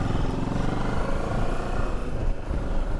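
A Moto Morini motorcycle being ridden, its engine a steady, loud droning rumble heard up close without pause.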